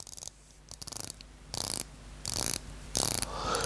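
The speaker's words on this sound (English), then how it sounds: "we have a unidirectional 120 click bezel" Rapid ratcheting clicks from a Seiko 5 watch's unidirectional 120-click aluminium-insert bezel being turned, in several short bursts close to the ear, with no talking.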